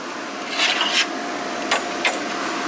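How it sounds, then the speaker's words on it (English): Hand-sanding the grill of a 1984–88 Toyota pickup during restoration: a few short, raspy scraping strokes in irregular bursts over steady background hiss, close by, with no talking. "I'm sanding it, and it's not a lot of fun"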